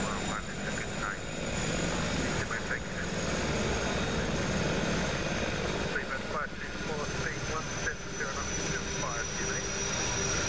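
An AW-139 helicopter in the X-Plane 11 flight simulator runs with its engine at idle, giving a steady, loud turbine whine and rotor drone, with a rhythmic blade thump that comes and goes through the whole stretch.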